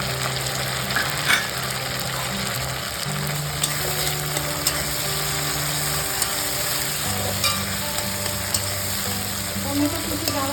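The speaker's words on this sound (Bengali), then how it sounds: "এবার আমি টমেটো কুচিটা দিয়ে দেবো।" Chopped tomato dropped into hot mustard oil with marinated chicken for biryani, giving a loud, steady sizzle and frying hiss with occasional stirring scrapes throughout.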